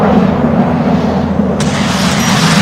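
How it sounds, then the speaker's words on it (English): Heavy turret emplacements firing on a fleet in the desert strategy game Homeworld: Deserts of Kharak, heard as a dense, continuous low rumble of blasts with one sharper crack just past the middle. "The fleet is taking fire from heavy turret emplacements."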